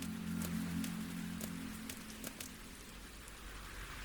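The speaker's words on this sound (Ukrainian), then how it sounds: "Кому яке діло, якщо йде дощ?" Steady rain falls, a soft continuous patter with scattered drops landing on surfaces, heard alone without any voices.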